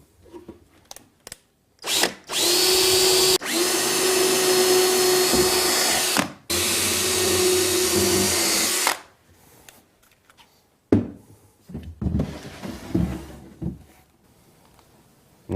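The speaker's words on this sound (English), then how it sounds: "drill pilot holes through the nailer into the cabinet" A power drill bores pilot holes through a cabinet's nailer strip into the cabinet in three long, loud, whining runs up close. Softer knocks and handling clatter follow.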